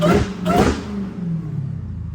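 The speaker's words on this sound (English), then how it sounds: "y'all know we gotta rev a little bit." A Dodge Demon 170 Charger running without its hood gives two quick, loud engine revs that rise and fall, then settles into a rough, rumbling idle close by.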